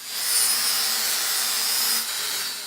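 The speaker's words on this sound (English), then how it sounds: "In hard to grind applications, such as we can see here, we need to use the angle grinder at 45 degrees to increase pressure and aggression." An angle grinder fitted with a Norton flap disc grinds metal at a 45-degree angle, a loud, steady, hissing abrasive roar that holds with only slight changes in pressure and no talk.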